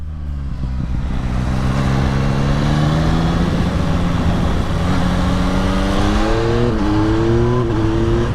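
A Yamaha MT-09 Y-AMT motorcycle accelerating hard through gears, its engine loud and close, pitch climbing steadily and then dropping briefly at each upshift.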